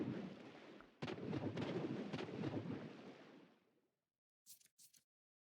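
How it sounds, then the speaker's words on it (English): A single loud gunshot in the Shadows of Doubt video game cracks sharply and then rolls off in a long, fading rumble, followed by silence and a few faint clicks. "Was there a gunshot?"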